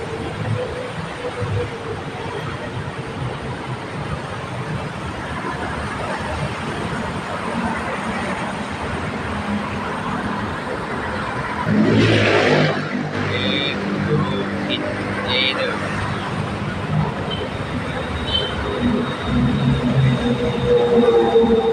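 A BTS Silom Line skytrain moves through Saphan Taksin station, with a steady rolling rumble that swells midway and high wheel squeals and tones toward the end, while voices murmur in the background.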